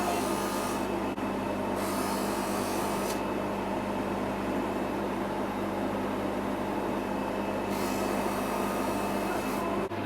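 Steady polishing of a wristwatch case to remove scratches, a continuous rubbing, whirring buff sound that runs unbroken at an even level close by, with no talk.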